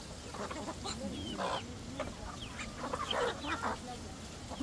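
Guinea fowl and chickens on a mountain farm cluck and call in a continuous, busy, fairly faint chorus of overlapping short cries over outdoor background noise.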